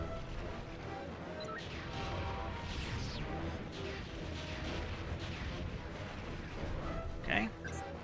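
Boss firing missiles in the Jet Force Gemini video game, a continuous rumble of booming blasts and crashes with a sharper burst near the end, while a person talks over it.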